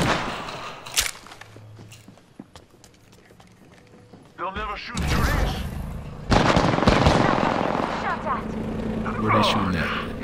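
Gunfire in Apex Legends: distant scattered shots early, then loud close bursts and rapid firing building up, mixed with footsteps and game effects, while a voice talks throughout.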